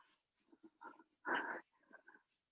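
Soft snorts and a short wheezy huff come from dogs close by in an indoor room, faint and irregular over a couple of seconds.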